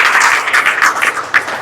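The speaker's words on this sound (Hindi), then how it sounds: "तो मैं चाहता हूं एक बार जोरदार तालियों से रजत का अभिनंदन करें।" Audience applause for Rajat at a youth gathering in Gohana, a short burst of dense, fairly close clapping that swells and fades unevenly.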